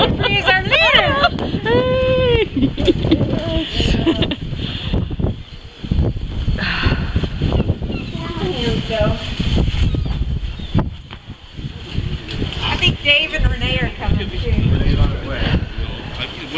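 Gusty wind roars across a snowy Coney Island beach during a January blizzard, buffeting the microphone in a steady rush while people talk loudly throughout.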